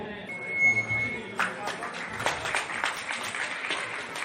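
A crowd in Khalari applauds the welcome of Jharkhand Congress president Rajesh Thakur; dense clapping swells after a brief electronic tone, and a voice talks over it.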